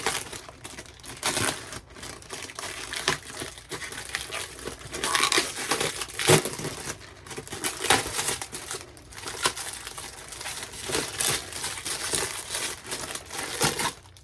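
Plastic packaging crinkles and tears as a car stereo unit is unwrapped, a steady stream of close, crackling rustles and sharp crunches lasting throughout without talk.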